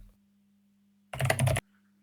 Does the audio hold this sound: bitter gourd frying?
no